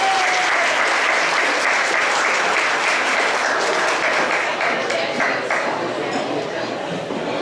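An audience at the Pulaski Club's 75th jubilee banquet claps loudly and continuously for the dinner music. The dense, steady applause fills the room and eases slightly near the end, with some voices underneath.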